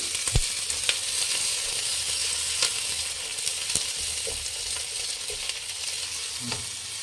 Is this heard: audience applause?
no